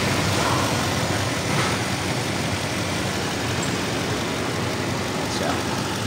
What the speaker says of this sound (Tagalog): Maandar yung makina natin.